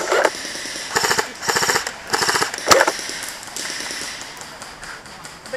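Airsoft gunfire in a trench defense game, including a TM AA-12, heard as several bursts of rapid mechanical cracks in quick clusters, moderately loud with outdoor ambience and faint voices between them.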